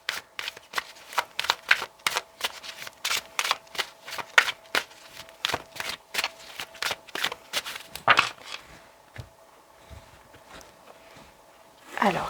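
A deck of Jesus oracle cards is shuffled by hand in quick, crisp riffling bursts, close and fairly quiet, with a short pause near the end.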